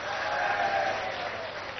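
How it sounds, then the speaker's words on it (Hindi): An audience at a religious yajna event attended by a chief minister claps for an introduced guest in a brief, sustained round of applause that sounds slightly muffled and band-limited. "ताको भी ताली बजाई कर स्वागत करो"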